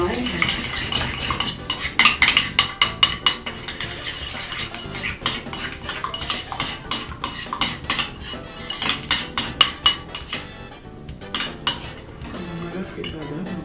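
Hair care ingredients are stirred in a bowl, a run of quick clinking, scraping strokes of a utensil against the bowl in bursts, close and fairly loud, with some talk underneath.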